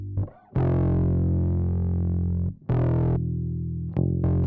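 Bass track processed with a distortion plugin in a mix, sustained gritty low notes with a buzzing edge, played in a few long, loud held phrases separated by short gaps.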